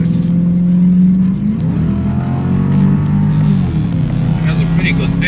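A Lexus SC400 in power mode accelerates hard, its engine note climbing steadily and loud from inside the car, with the pitch dipping at gear changes before rising again.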